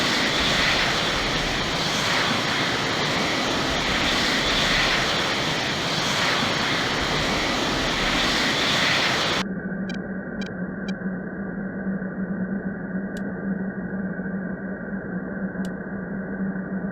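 F-16C Block 52 jet engine in flight in Falcon 4 Allied Force. A loud, continuous roar gives way abruptly to a quieter, steady tonal hum with a few faint clicks.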